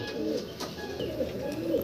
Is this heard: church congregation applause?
no